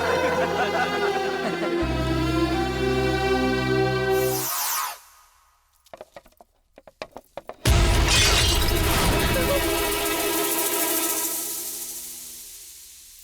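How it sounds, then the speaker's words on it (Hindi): A picture frame falls and shatters: a sudden burst of breaking glass after a dramatic musical sting, followed by scattered tinkling shards, then loud orchestral music swells back in. "फ्रेम टूट गया।"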